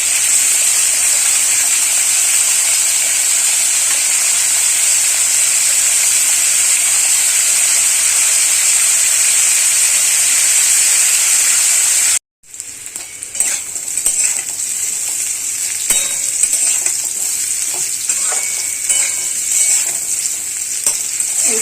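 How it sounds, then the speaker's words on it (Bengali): Kohlrabi frying with salt in a pan for a Bengali prawn and kohlrabi dish, a loud continuous sizzle that cuts off briefly, then returns with scraping stirs and crackling pops. "একটু নুন দিয়ে ভাজবো ভালো করে"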